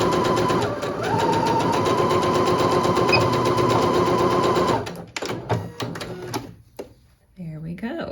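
A sewing machine stitches a scrunchie seam in a fast, continuous rattle for nearly five seconds, then stops and gives way to handling noises and fabric rustle as someone talks.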